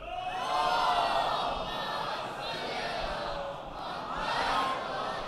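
A large crowd at a Muharram majlis in the Khoja Masjid shouts religious slogans in unison, two loud swelling waves of massed voices over a steady hubbub.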